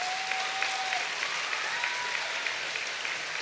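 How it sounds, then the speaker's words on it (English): An audience at a graduation ceremony gives sustained, dense applause that holds at a steady level throughout, with a faint tone drifting over the clapping. "Yeah, that's worth clapping for."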